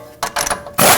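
Ratchet wrench tightening the tie rod mounting nut on a Jeep Renegade knuckle, heard as three close, loud bursts of rapid clicking separated by short pauses, with no talking.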